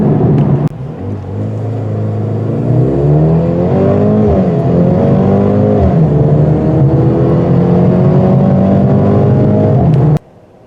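A 2021 Mercedes-AMG GLB 35 launching hard from rest, its engine note climbing loud and steady through several rising gear sweeps over about nine seconds before cutting off abruptly.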